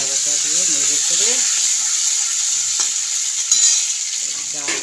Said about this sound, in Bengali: আদা বাটা দিয়ে নেড়ে করে